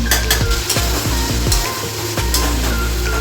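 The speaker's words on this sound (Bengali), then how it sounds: "সব মশলা এবার ভালো করে কষিয়ে নেব" Ground spices with potatoes stir-fried in a kadai for Afghani aloo, turmeric, coriander, cumin, black pepper and garam masala sizzling loudly as a spatula scrapes the pan in repeated strokes, with no talking.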